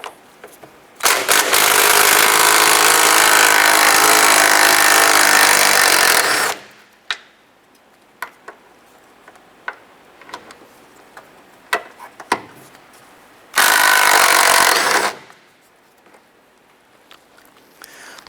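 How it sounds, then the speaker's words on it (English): An impact wrench with a 13mm socket loosens the strut bolts on a 2007-2012 Nissan Versa, giving a long loud rattling burst, then a pause with small clicks and knocks, then a second shorter burst. "Using a 13mm socket on your impact or your ratchet, whatever you want to use, we're going to loosen these bolts here."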